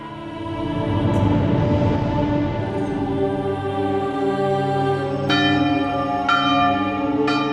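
Church bells ring loudly and steadily, their tones overlapping in a rich, sustained peal with sharp new strikes near the end.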